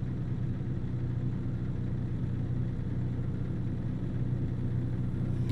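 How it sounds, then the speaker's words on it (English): A truck engine in American Truck Simulator roars in a steady, loud, low rumble, droning without pause under the game's constant road noise. "I love the sound of the roar of the engine."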